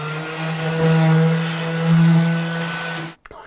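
A vacuum cleaner drones loudly and close by for about three seconds with a steady whine that swells twice, then is abruptly switched off, leaving a brief clatter in a kitchen being prepared for cabinet painting.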